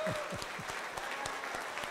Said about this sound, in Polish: Zapraszamy, ale gromkimi brawami, strasznie mocnymi, witamy młody talent.